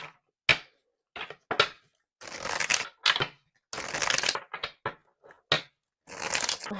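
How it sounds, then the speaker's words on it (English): Tarot cards being shuffled in short riffling bursts with pauses between, close-up and fairly quiet, no voices. "while I was shuffling this deck"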